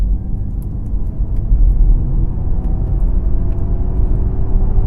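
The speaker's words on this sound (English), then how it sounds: "So now I've got propulsion sound on. The Untamed one sounds like this." Low synthetic humming propulsion drone from a 2021 Ford Mustang Mach-E electric car in Untamed mode, steady and rumbling with a faint whine on top, no voices.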